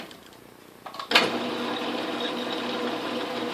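An Atlas/Craftsman metal lathe switches on at its slowest speed and settles into a steady mechanical whir and hum. It runs alone with no voices.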